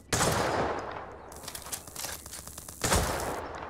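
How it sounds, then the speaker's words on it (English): Sniper rifle fire in the Roblox game Jailbreak, loud sharp blasts at the start and again near the end with ringing tails between, heard alone without talk. "I'm gonna shoot you with a sniper."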